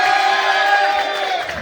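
A comedy club audience erupts in loud cheering and whooping, a sustained roar of many voices close in the room, with little distinct clapping heard under the shouts.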